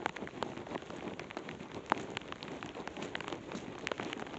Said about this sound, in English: it's like raining loads.